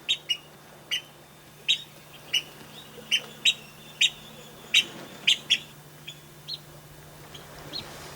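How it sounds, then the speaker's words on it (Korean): Mother shorebirds on the Janghang tidal mudflat call to their chicks with a series of about a dozen sharp, high chirps at irregular intervals over a faint, steady background hum, clear and moderately near. "갯벌은 어미 새들이 새끼들을 불러대는 소리로 가득하다."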